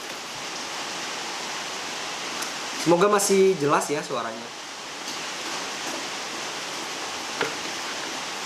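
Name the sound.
rain falling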